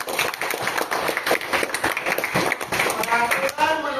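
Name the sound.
clapping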